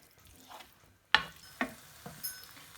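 Chicken cooking in a pan over medium heat, a soft sizzle punctuated by a few distinct clinks and scrapes of a utensil stirring, close and fairly quiet.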